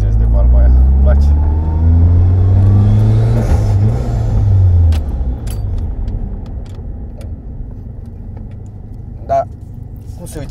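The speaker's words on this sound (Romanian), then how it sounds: "Asta a fost blow-off-ul, nu?" A Toyota Celica GT-Four engine revs loudly and close, its pitch sweeping up and down before settling to a lower rumble, with a short burst near the end that fits a blow-off valve release, while people talk over it.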